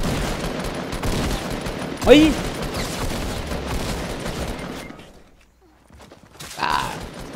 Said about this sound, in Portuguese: O cara tá tomando tiro.